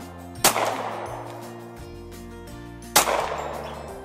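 Two loud, sharp gunshots at family target shooting outdoors, spaced a couple of seconds apart, each ringing briefly before fading over a low steady hum.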